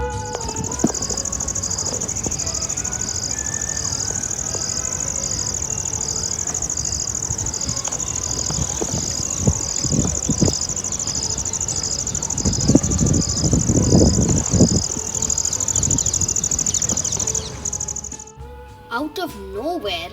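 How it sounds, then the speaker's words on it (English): A steady, loud chorus of crickets and other insects chirps continuously by a body of water beside a walking trail, a high pulsing trill running under the whole stretch, with some nearby rustling and thumps toward the middle. "the sounds of crickets and other insects were very loud"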